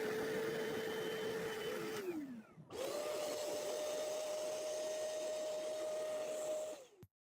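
A Bissell Little Green or Hoover carpet cleaner runs over flour on carpet, a steady motor whine that winds down, stops briefly, then starts again and holds before cutting off, close and continuous with no talking.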